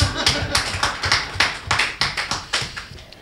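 Clapping from the crowd at a Hindi poetry gathering, sharp individual claps coming in uneven bursts of several hands rather than a full ovation, close and moderately loud, with brief pauses between clusters.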